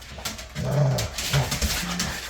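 A dog makes low whining, grumbling vocal sounds indoors, a few drawn-out moans and short whimpers close by, with some faint shuffling on a slippery floor and no clear speech.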